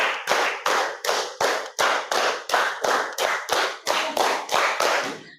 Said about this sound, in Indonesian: Tepuk 4 4 kali.